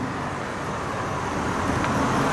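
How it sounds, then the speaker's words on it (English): A car passes by with a steady, broad roar of road and engine noise that fills the whole short stretch at an even, fairly loud level, with no voices. "Car!"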